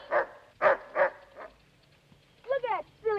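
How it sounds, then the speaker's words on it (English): A silly old dog barks at birds it is chasing, giving several sharp close barks in a quick burst, a pause, then a couple of higher, whinier yelps. "Look at that silly old dog chasing birds."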